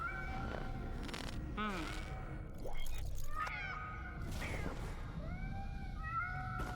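Cats in the video game Nine Sols meow in several short, rising and falling cries scattered over a busy, noisy game soundscape with crashing and splashing effects.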